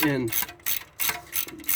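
A hand ratchet works on a bolt at the wheel hub of a Ford Edge during a wheel bearing replacement, giving a few quick bursts of metallic clicking separated by short pauses, close up.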